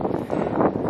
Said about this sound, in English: The wind shifted.